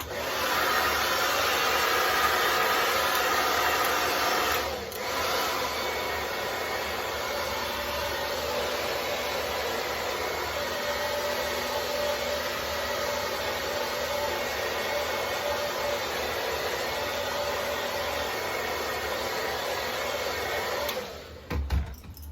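A hair dryer blows steadily and loudly on an installed hair system, a constant rushing whir that runs unbroken for about twenty seconds before cutting off abruptly near the end.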